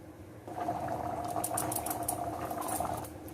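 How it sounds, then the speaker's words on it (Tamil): A pot of kidney beans bubbles steadily at a low simmer, with soft popping and a faint hiss, close up and without voices. "இப்போ இது வந்து கொதிக்க ஆரம்பிச்சு ஒரு 10 நிமிஷம் ஆயிடுது."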